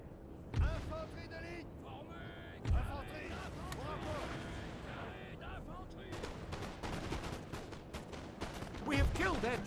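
Enemy artillery in a Napoleonic Egyptian campaign strategy game lands as three deep, booming thuds spaced several seconds apart, set against a constant din of battle and someone speaking.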